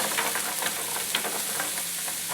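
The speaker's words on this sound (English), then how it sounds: "You don't want to brown the onions, you just want to sort of sweat them off a little bit." Onions for rice pilaf sweat gently over very low heat in a pan, a soft continuous sizzle with faint stirring scrapes, close and even throughout.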